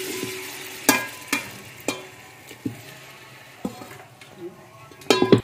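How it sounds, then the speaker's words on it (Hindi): One kilo of mutton fries in ghee, a faint sizzle beneath repeated sharp metal clanks and scrapes of a spoon stirring in a pot, close and uneven in rhythm. "गोश्त को, इसमें फ्राई करेंगे।"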